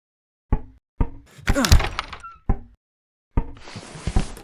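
A wooden door in the horror game Coming Home is worked several times: spaced, hollow knocks and thuds, a creaking swing in the middle, and a final rattling push, all close and with no talk.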